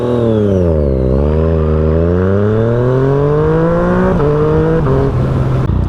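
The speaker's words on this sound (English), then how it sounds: "This bike has a sweet competition works exhaust" Yamaha FZ-09 motorcycle with a Competition Werkes exhaust, a close, loud engine dipping then climbing steadily in pitch under acceleration, with quick shift blips near the end.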